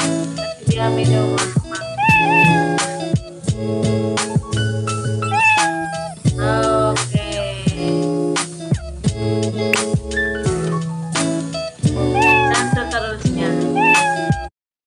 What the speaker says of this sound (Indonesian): itu contoh untuk game sederhana ya, melihara kucing